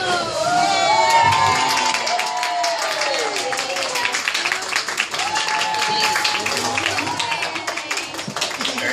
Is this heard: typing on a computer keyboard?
no